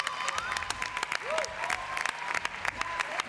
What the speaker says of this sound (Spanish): un aplauso para Eugenia por la coreografía que le hizo